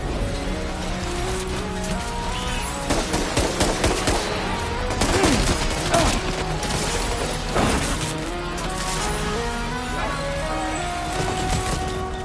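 Gunfire rattles through a battle in Death Stranding 2, with bursts of rapid shots and sharp cracks over a dense, loud game mix, and voices call out during the fight.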